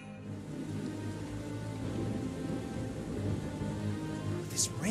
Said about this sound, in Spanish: This rain is bullshit, man.